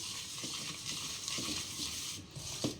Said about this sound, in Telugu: ఇవన్నీ వేసాక బాగా కలిపేసుకోండి